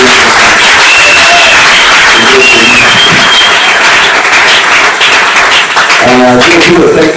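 A church congregation breaks into loud, sustained applause that fills the room, with scattered voices and cheers mixed into the clapping.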